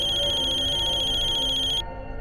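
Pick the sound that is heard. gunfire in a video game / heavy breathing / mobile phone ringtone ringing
mobile phone ringtone ringing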